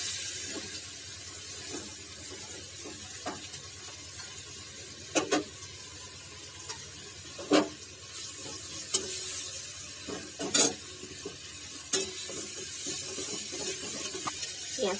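Onion paste sizzles in oil left over from frying tangra fish, with a constant close crackle and several sharp clanks and scrapes as a spatula stirs it, and no voices.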